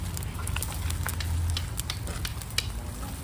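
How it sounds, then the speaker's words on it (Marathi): A wood fire burns outdoors at night with continuous crackling and sizzling pops close by, steady and without talk. "आग पेटली बघा"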